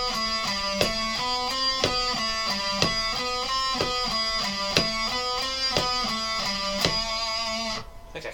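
Guitar played in steady eighth-note triplets with alternate picking, each plucked note sharply attacked in an even, rhythmic pattern, close and clear before ringing off at the end.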